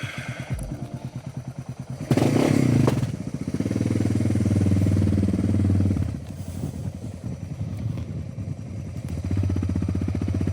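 A Suzuki DR650 motorcycle with airbox mods and a jet kit runs on a test ride, its engine note rising and falling through throttle changes with a steady thumping exhaust, close and loud.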